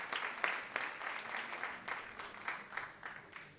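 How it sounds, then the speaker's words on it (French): An audience at a bilingual French-Spanish literary talk claps for the translators, a faint, distant patter of applause with scattered sharper claps. "donc applaudir nos traducteurs, mais aussi à Malek"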